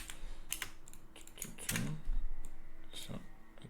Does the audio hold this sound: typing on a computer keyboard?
yes